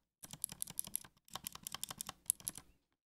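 Two quick bursts of clicky mechanical key clicks, Kailh Box Gold compared with optical blue switches, typed close up with a short pause between them, sharp and clicky with no talking.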